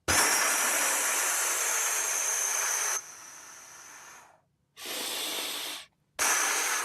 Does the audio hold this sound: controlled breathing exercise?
yes